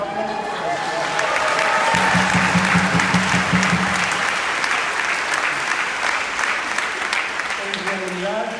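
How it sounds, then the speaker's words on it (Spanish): Congregation applause during a Spanish-language Catholic Mass homily, dense clapping from around 300 people that fills the whole stretch, with a voice heard over it at the start and end. "Así que un aplauso para ustedes."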